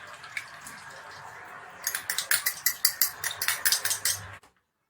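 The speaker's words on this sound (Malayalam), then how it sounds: "തലപ്പാൽ ഒഴിച്ച് പയ്യൊന്ന് മിക്സ് ചെയ്യാം" Thick first-press coconut milk goes into a Kerala duck curry and is stirred, giving a quick run of about a dozen metallic clinks and scrapes of a spoon against the pot, close and moderately loud, then stopping abruptly.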